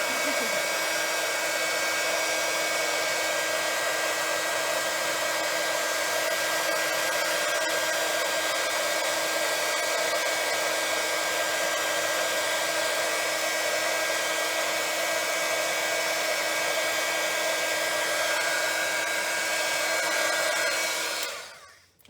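A heat embossing gun blows hot air at a scrapbooking and cardmaking table, giving a loud, steady whirring hiss that runs nonstop for about twenty seconds and then stops abruptly.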